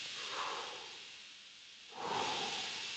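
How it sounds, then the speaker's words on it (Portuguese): Two soft, airy breath sounds with a quiet pause between them, the second swelling louder as air is drawn in close to the mic. "Eu vou puxar o ar"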